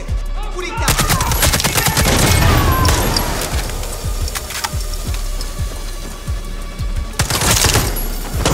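Heavy Far Cry 6 firefight with rapid automatic gunfire, loud close bursts and splintering impacts running almost continuously, then a final cluster of shots after a short lull.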